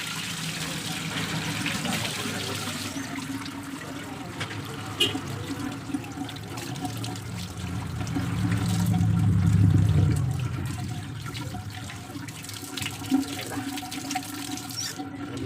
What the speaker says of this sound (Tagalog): Ugasan muna natin para magprito na tayo nito.